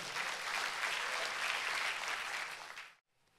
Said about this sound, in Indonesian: Yang setuju tepuk tangan dulu dong.